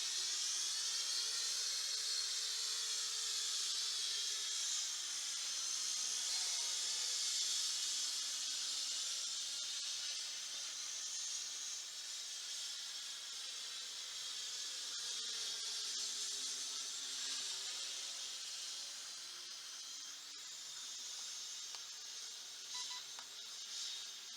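A Huajun u-fly W606-3 WiFi FPV quadcopter flies continuously, its small rotors giving a steady high-pitched whine that wavers slightly in pitch as it maneuvers, loud and alone throughout.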